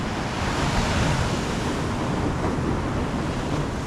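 Sea waves roll and wash continuously near a shore where boats come in, a dense, steady roar of surf mixed with wind buffeting the microphone.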